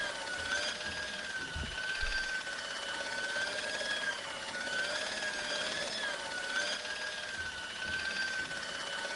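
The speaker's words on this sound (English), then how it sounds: "I saw the source of the hellish noise which echoed through the corridors. It was an industrial polishing machine" An industrial polishing machine from the game Broken Sword drones steadily in an echoing corridor, a continuous mechanical whine with a slowly wavering pitch and periodic surges, heard alone.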